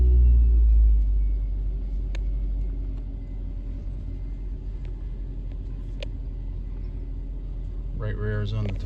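A 2011 Suzuki SX4 AWD with an ABS fault light drives on a test drive, its steady low engine and road rumble heard from inside the cabin, with a voice briefly at the end.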